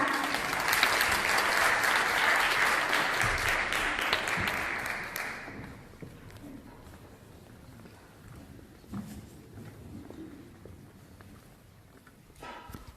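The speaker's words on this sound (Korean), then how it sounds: "큰 박수로 모시겠습니다." An audience at an education ceremony claps loudly for about five seconds to welcome a speaker, then the applause fades out, leaving quiet room noise with a few faint thumps.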